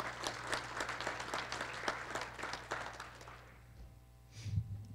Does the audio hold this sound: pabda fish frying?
no